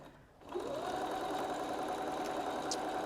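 A sewing machine stitches pieces of fabric together with a quarter-inch seam. After a brief quiet start, it settles into a fast, even, close-up mechanical hum that runs steadily to the end.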